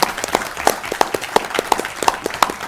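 Scattered applause from a small audience at a state Senate Health and Welfare Committee hearing, heard as a run of distinct, evenly spaced claps at moderate volume for a few seconds.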